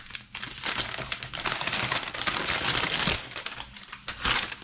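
A large paper instruction sheet for a Kryptonite bike lock crinkling and rustling nearby in dense, continuous bursts of crackling handling noise.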